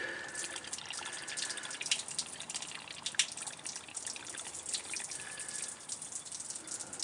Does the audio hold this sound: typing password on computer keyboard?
no